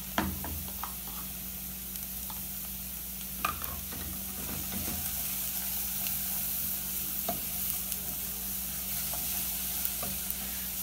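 Grated raw carrot and bell pepper sautéing with rice for arroz à grega: a soft steady sizzle with occasional scrapes and taps of a spoon stirring, plus a low hum underneath.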